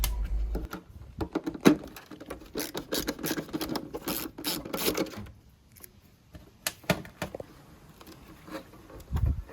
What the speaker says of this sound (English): before removing the screws that hold the circuit board to the light assembly